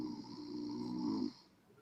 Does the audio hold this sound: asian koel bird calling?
no